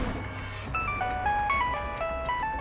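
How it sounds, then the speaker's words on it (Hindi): A phone rings in a home during a Hindi-language drama, a rising and falling electronic melody of short tonal notes repeating steadily over a low background hum. "उसने अपने बाप को पानी देकर पलटी तो फोन बज रहा था।"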